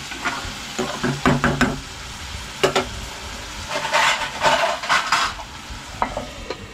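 Onion and tomato cook in a pan on a low flame. Light sizzling runs under scattered close clinks and scrapes of stirring.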